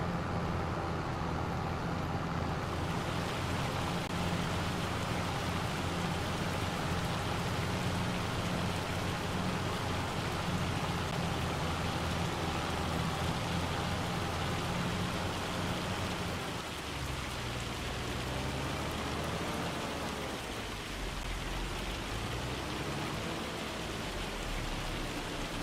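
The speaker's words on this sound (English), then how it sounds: "It's starting to hail, isn't it? Yeah, it's hailing." Hail falling in the Farming Simulator 25 video game, a dense, steady hiss and patter that continues for the whole stretch with no voices.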